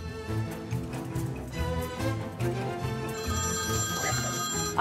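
A telephone rings steadily in a home setting, its repeated bell tone loud and close over a low background bed, with no talk heard.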